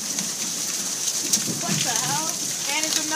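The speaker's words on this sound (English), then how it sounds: "it looks like rocks coming out of the sky" Hail pelting down steadily during a hailstorm in Methuen, Massachusetts, a dense continuous patter with faint bird chirps behind it and no clear talk.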